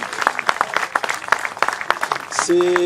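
A room of people at a retirement farewell speech claps in uneven, sharp bursts of applause, fairly close, then a brief tone sounds near the end.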